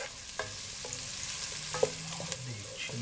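Chopped onion is stirred and fried in lard, a soft close sizzle broken by spoon scrapes and small clicks against the pan, with no talking.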